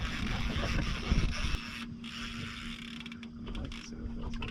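A fishing reel cranked steadily while fighting a striper from a boat, a continuous mechanical ratcheting whir running close and fairly loud throughout over water and boat noise.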